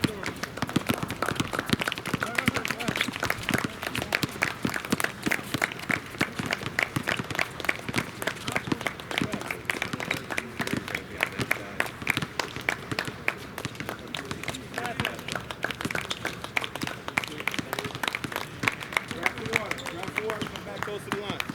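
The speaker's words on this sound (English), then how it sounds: "Clap it in for him, clap it in for him." Rapid, continuous rhythmic clapping from a group at a basketball skills and drills practice, mixed with shuffling and footsteps, with a coach's voice calling out over it.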